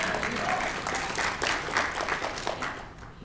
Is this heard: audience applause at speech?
yes